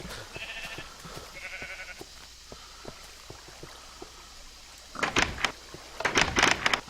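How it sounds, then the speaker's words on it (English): Sheep bleat in the video game Minecraft, with several loud, close bleats clustered near the end after quieter game ambience and soft steps. "sheep!"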